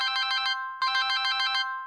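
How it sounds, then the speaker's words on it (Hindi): A mobile phone ringtone for an incoming call plays as a bright electronic melody in two bursts separated by a short pause, loud and clear with no talking over it. "बॉस का फोन।"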